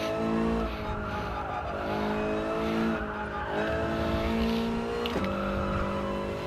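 Toyota race car at Laguna Seca braking hard, engine revving loudly with downshifts and falling pitch, tires squealing through steady, close in-car engine noise.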